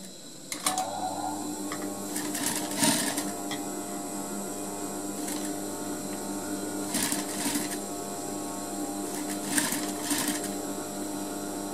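A sewing machine stitching a zipper fly in a tailoring class runs in steady, rapid mechanical chatter with a few louder clacking bursts. It is close and alone, with a faint hum underneath.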